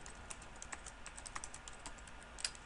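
Rapid typing on a computer keyboard while entering a username, a steady run of light, close key clicks with a few louder taps, no talking.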